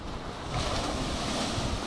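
Waves wash onto a beach at high tide, a steady rushing surf blended with wind noise on the microphone, continuous and fairly close.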